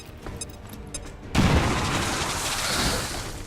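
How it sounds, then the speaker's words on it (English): A frag grenade detonates in XCOM 2 with a sudden loud boom, followed by a long rumbling, crackling tail of debris and destroyed cover settling. "We could use another grenade to blow up the tree."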